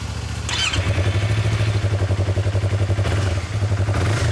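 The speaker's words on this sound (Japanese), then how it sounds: "この R25、エンジン音聞かせてもらえる" A 2017 Yamaha YZF-R25 motorcycle idles steadily up close, its loud, even engine pulse running throughout with a brief clatter near the start.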